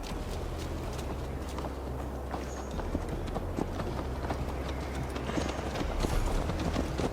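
Horse hooves galloping in Assassin's Creed Valhalla, a steady rapid clip-clop rhythm of a mount on the move, continuous and moderately close over a low ambient rumble.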